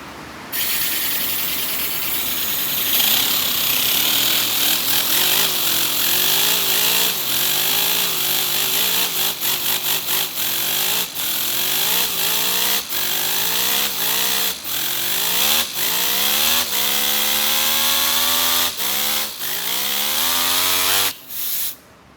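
A mini V4 engine running close by with a loud, buzzing, chainsaw-like drone that wavers up and down in speed, with repeated clicks and knocks throughout before it cuts off at the end.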